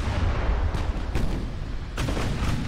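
Heavy battleship guns firing in the naval warfare game Ultimate Admiral: Dreadnoughts, a constant low rumble broken by a few booming salvos, the loudest arriving near the end.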